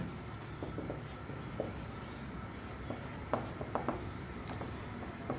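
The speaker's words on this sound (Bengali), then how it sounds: "তো আমি আগে দৈর্ঘ্য প্রস্থ লিখে নিই" A pen writing on paper in short scratchy strokes and taps, quiet and close, with pauses between bursts as dimensions for a rectangle are written down during a math lesson.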